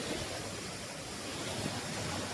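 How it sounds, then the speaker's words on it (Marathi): The Palasdari waterfall flows nearby as a dense, continuous wash of water noise with some wind buffeting, steady throughout with no speech. "माझ्या पाठी हा तुम्ही बघताय तो पळसदरी वॉटरफॉल"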